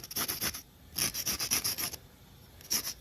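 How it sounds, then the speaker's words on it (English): Rough, scratchy sanding of a spinning wooden top with a small pad of Festool sandpaper, in three bursts, two longer passes and a short final touch, close and fairly loud. "I use this little sanding pad"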